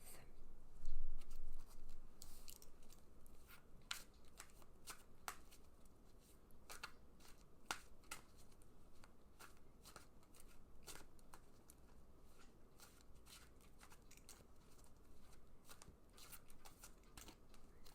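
Tarot cards shuffled by hand in a quiet room, a steady patter of riffling and sliding card strokes with sharper snaps at intervals, close and fairly soft, with no voices.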